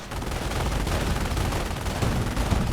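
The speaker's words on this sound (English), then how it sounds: "Coming under heavy fire from the auto cannons." Heavy autocannon gunfire in a wargame battle rattles in dense, continuous bursts, loud and overlapping with no pauses.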